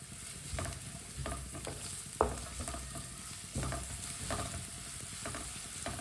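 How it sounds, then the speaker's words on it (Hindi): Onions cook on medium heat in a pan, a continuous soft sizzle under repeated scraping and stirring strokes of a spoon, with one sharper knock against the pan partway through; no voices. "1 मिनट के लिए प्याज को मैंने पका लिया।"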